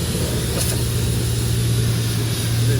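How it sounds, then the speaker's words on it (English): A lifted Chevrolet Tahoe on 24x14 wheels with a heavy-duty transmission drives along, its engine giving a steady low drone with road and wind noise, heard from inside the cab without talk. "Just driving the hell out of my truck."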